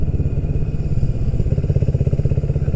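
A motorcycle engine drones loudly and steadily with a throbbing low rumble while riding along a smooth road in Portugal, heard alone up close.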